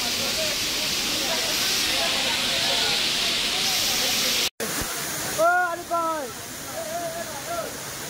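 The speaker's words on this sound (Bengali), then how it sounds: "জাস্ট ঝর্ণাটা দেখুন" A waterfall in the Ayodhya Hills of Purulia gives a steady, loud rushing hiss that briefly cuts out and then continues more faintly under a person talking.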